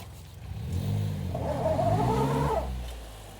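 A brand new car stuck on its belly in an old-style motorsport event. The engine revs up and holds a strained, rising drone for a couple of seconds, then eases off, with the wheels spinning and no talk.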